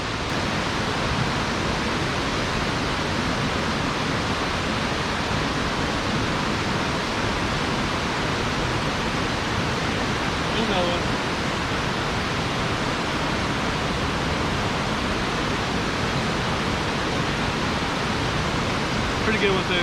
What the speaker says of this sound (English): Depending on how that waterfall is coming down